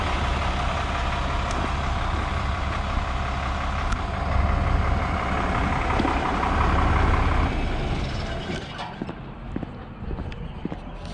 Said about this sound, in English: Got two more tractors coming in.